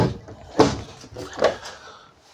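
A drawer in a 2025 Gulfstream B Touring Cruiser 5210 RV kitchen slides and knocks shut twice in quick succession, close and fairly loud with slight room noise.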